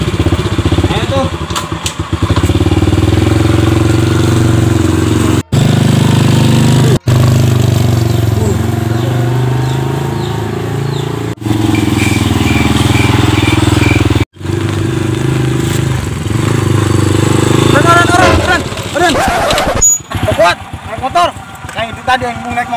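A motorcycle engine runs through a ride, giving a steady, loud low drone with brief dropouts and some revving near the end, while people talk over it.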